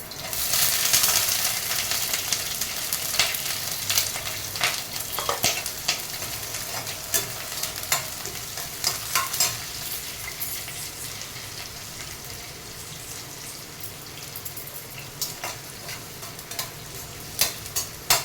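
Onions frying in a pan for a paneer kofta curry gravy, a steady low sizzle with intermittent scraping stirs and clinks of the spoon against the pan, heard close and alone.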